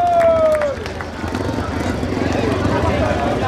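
Spectators at a grass track race in Eenrum applaud in a steady, dense wash of clapping and crowd noise, following a short tone at the start.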